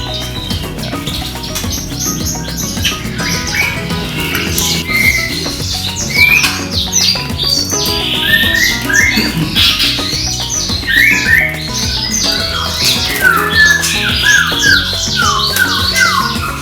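Yorkshire and blackthroat canaries chirp and trill continuously at a breeding farm in Bogor, many birds overlapping in a dense, bright chorus close by.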